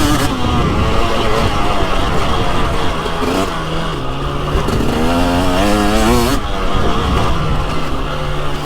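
A 2023 KTM TX300 Heritage Edition two-stroke dirt bike rides through fall woods on a crisp day, its engine a loud, close, continuous drone that lugs low and then rises in pitch as it pulls harder, with no talk.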